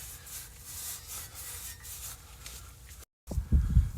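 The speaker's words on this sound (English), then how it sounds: "I'm just going to take and wipe this up in here, make sure this is clean." A rag rubbing and wiping inside the front wheel bearing housing of a 2006-2010 Hyundai Sonata, a steady soft scrubbing swish, close up, ending after a brief gap with a few heavier knocks and rustles.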